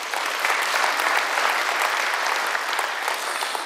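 Audience applause fills a hall at an institute's opening ceremony, steady dense clapping that holds at an even level throughout without a break.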